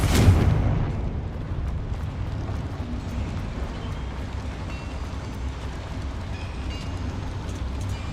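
A Confringo fire spell blasts in Hogwarts Legacy inside a small mine, a sudden loud boom at the start followed by a long low rumbling roar that fades slowly.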